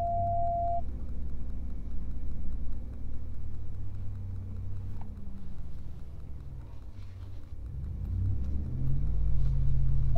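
Dodge Ram 1500 pickup crawling off-road in first gear in four-wheel drive, a steady low engine rumble close by, swelling louder and deeper near the end.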